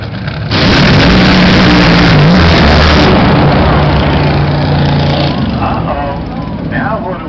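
Nitro drag racing boats at the start line of a semi-final run, a loud sustained engine roar with rising and falling revs filling the whole clip, an announcer's voice talking over it.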